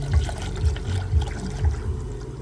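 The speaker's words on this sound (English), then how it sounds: "Pouring some good old Gatorade in here." Gatorade poured through a funnel bleeder into the radiator coolant system of a Toyota 1JZ engine, a steady gurgling trickle with rhythmic glugging pulses, close and continuous with no talk.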